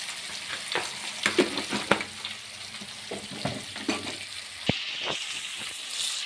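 Lemon pepper fish frying in an oily pan, a close, continuous sizzle with irregular crackling bursts and a few sharper scraping stirs, no voices.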